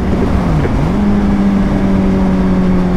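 A Kawasaki Z900 motorcycle accelerates at high speed, its engine a loud, steady close-up drone whose pitch dips and then climbs and holds, with heavy wind rush over everything and no speech.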